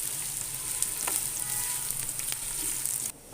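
Sliced medium onion frying in a pan for a Hyderabadi vegetable dum biryani, a continuous bright sizzle with a few light stirring clicks that cuts off abruptly near the end, with no talk.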